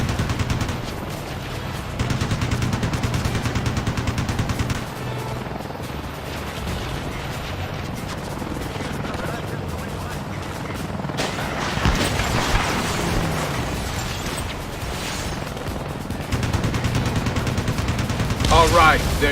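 Rapid aircraft gunfire in the combat flight game Ace Combat Assault Horizon, dense sustained bursts roaring over a constant engine drone, loud and close, swelling near the end, with voices speaking over parts of it.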